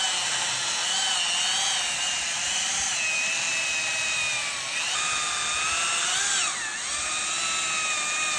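A battery-powered chainsaw cuts through wood on its second speed setting. The whine is steady and electric, and its pitch dips and wavers as the chain bites into the wood, heard close and alone.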